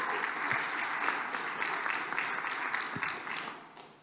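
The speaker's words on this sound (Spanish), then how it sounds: "démosle otro aplauso que se lo merece" An audience applauds a journalist at a panel event on online harassment of reporters, with dense, sustained clapping that gradually fades toward the end.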